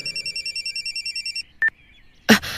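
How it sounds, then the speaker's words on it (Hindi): A phone rings with a repeating electronic trill, several short pulses in steady rhythm, then falls silent before a brief click and a sharp clatter close by; no talk. "और तभी मेरा फोन बजा।"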